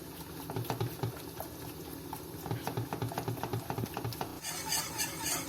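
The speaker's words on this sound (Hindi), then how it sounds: "इसको हमने हिलाते जाना है मुसलसल।" A sugary bread pudding sauce cooks in a pan under continuous stirring, with a spoon repeatedly scraping and clinking against the metal in a busy rhythm. A bubbling simmer surges toward the end, and no one speaks.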